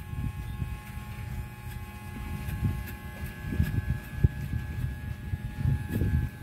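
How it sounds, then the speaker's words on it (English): Walmart electric hair clippers buzzing while cutting a number two fade, a steady close motor hum with uneven bursts as the blades move through hair, no talk. "the clipper will blend for you"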